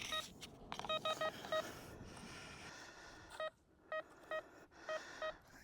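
A Pancky PK-0075 metal detector signals a target with short electronic tone bursts, several beeps in quick groups over low outdoor background noise, with no speech.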